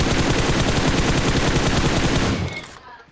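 Rapid automatic gunfire in the PUBG Mobile battle royale game, loud continuous bursts of shots that rattle on for several seconds before cutting off and fading to near silence.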